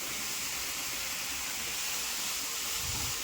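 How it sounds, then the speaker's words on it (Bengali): Grated carrot sizzles in hot ghee for halwa, a steady, even hiss of frying that holds at a constant moderate level throughout, with no voices. "গাজরটা আমি ভাল করে ঘি দিয়ে ভাজা করে নিন।"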